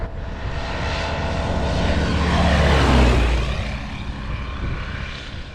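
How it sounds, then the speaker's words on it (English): Tecnam P96 Golf, a low-wing sliding-canopy light aircraft built in 2000, heard in flight as a steady, loud propeller engine drone that swells slightly toward the middle and eases off, with no talking. "The P96 is a low-wing, sliding canopy light aircraft"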